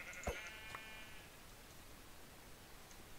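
A single sheep bleats once in Minecraft, a short clear bleat near the start followed by a faint blip and then near-silence.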